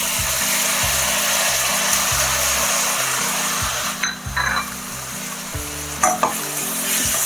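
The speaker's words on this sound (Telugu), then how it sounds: "ఈ టమాటాలు వేసేసుకుందాం." Chopped tomatoes go into a pan of arvi (taro root) gravy and sizzle loudly as a spoon stirs them in repeated scraping strokes, with occasional clinks against the pan.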